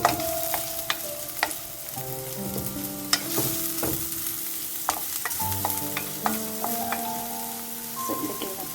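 Red onion sautéing in a hot pan hisses steadily at close range while a utensil stirs and taps against the pan in irregular knocks, with faint tonal background music underneath.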